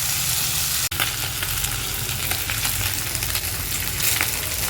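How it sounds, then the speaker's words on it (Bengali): Fish pieces frying in hot oil until red and crisp, a loud, steady, close sizzle that runs unbroken apart from one brief dropout near the start. "খুব ভালোভাবে খুব একদম লাল লাল করে কড়া কড়া করে ভেজে নেব মাছগুলো।"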